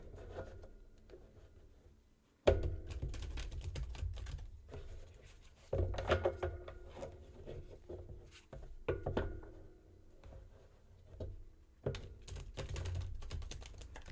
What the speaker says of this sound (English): You shuffle the deck.